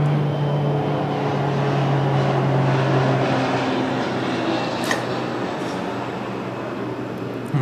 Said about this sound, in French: L'avion qui passe, ça arrive.